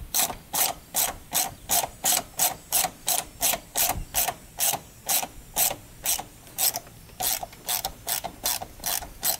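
A ratchet wrench loosening a 16 mm bolt on a quad, with a steady, rapid train of loud, crisp clicks repeating evenly, close up.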